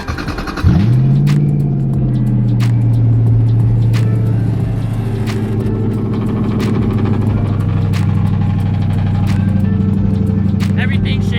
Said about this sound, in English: So let's see if she'll start up.